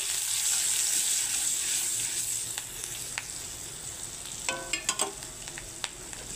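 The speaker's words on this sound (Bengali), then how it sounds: "আমি এই যে ওখানে 5 ফোড়ন দিয়ে দিচ্ছি আর দিয়ে দিচ্ছি কাঁচা লঙ্কা কুচি" Five-spice, chopped green chilli and turmeric dropped into hot oil, a loud crackling sizzle that gradually settles to a softer hiss, followed by a few sharp clinks and scrapes near the end, with no talk.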